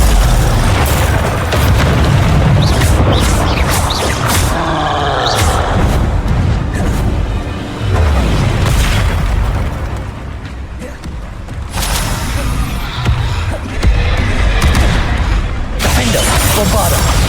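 Bombarda explosion spells in Hogwarts Legacy go off as loud, booming blasts in rapid succession amid dense combat effects, with shouted spell names over the top.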